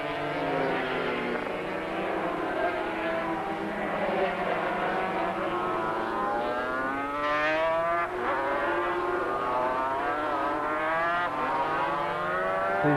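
500cc and 250cc racing motorcycles, including a Rotax and a Honda 250, scream down the straight at a 1985 ARRC round. Loud, continuous engine whine rises and falls in pitch as several bikes pass in close succession.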